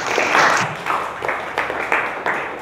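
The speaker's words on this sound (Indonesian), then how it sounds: "tepuk tangan untuk Nurul anak-anak" Children applauding together in a classroom, a loud burst of clapping that falls into a rhythmic beat of repeated group claps.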